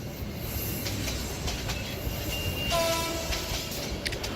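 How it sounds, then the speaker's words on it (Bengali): A cartoon train rumbles and clatters past, with a drawn-out whistle sounding partway through over the steady rolling noise. "হঠাৎ হুইসেলের আওয়াজে হকচকিয়ে উঠলাম।"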